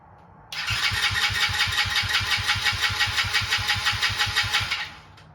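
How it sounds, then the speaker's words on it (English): A long-dormant Tao Tao ATV engine being cranked with the throttle wide open, a steady rhythmic starter chug with regular compression pulses running for about four and a half seconds, close and loud, no voices. "and then crank the engine."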